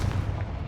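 A Confringo blasting spell cast in Hogwarts Legacy, a brief loud booming burst with a heavy low rumble and crackling fire-like texture, close and alone.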